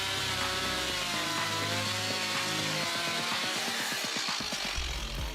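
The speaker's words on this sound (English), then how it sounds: "the MS 170 handles woodwork with precision the most effectively" A Stihl MS 170 chainsaw cuts through wood with a loud, steady, buzzing engine whine that holds throughout, then turns choppy and pulsing near the end as the load on the chain changes.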